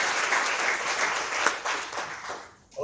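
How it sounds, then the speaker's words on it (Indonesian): A church congregation applauds at an evening Sunday worship service in Manado, with steady broadband clapping that fills most of the moment before fading briefly near the end. "Tepuk tangan dulu buat dia."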